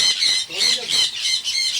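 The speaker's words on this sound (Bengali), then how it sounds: "কত ভালো লাগে পাখিগুলো। এই দাঁড়া, চেঁচা করা শুরু হয়ে যাচ্ছে" Pet birds squawking and screeching up close, loud harsh repeated calls in quick bursts that fill the whole stretch with no talking.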